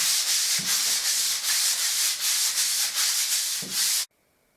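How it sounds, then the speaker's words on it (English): Hand sanding of plaster on a wall, a steady rhythmic scraping rasp in repeated strokes, close and alone, ending abruptly. "make sure you only sand one direction on the wall"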